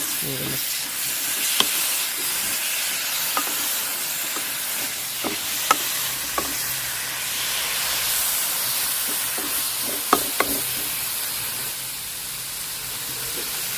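Onion and shallot paste sautéing with green chillies in a pan for a tomato roast, a steady soft sizzle and hiss with occasional stirring clinks and scrapes, close and without talk.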